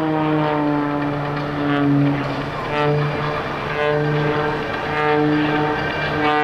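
Aerobatic airplane, a Sean Tucker performance at the 2002 Willow Grove Air Fest, diving with a steady loud propeller-engine drone and strong harmonic whine that swells and eases as airspeed builds, no talk over it.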